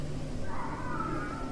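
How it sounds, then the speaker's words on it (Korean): A cat cries faintly in the distance, one drawn-out wavering meow rising and sliding over a dense, hissing wind-like background. "멀리서 고양이 우는 소리가 들리기 시작했습니다."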